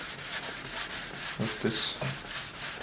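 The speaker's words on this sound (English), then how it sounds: "to start off, I want to kind of lightly sand it again." A guitar top is lightly sanded with 2400 micromesh, giving a soft, continuous hiss of back-and-forth rubbing strokes close by, with a few words spoken briefly over it.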